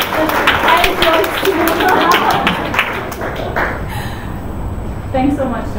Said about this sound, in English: please give Anna a big round of applause